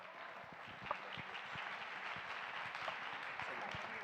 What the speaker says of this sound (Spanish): Un fuerte aplauso para nuestros participantes.